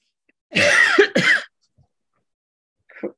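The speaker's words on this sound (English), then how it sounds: "that cough has come back with a vengeance" Two harsh, throaty coughs close together near the mic, followed by a softer, brief third sound after a pause; no talking.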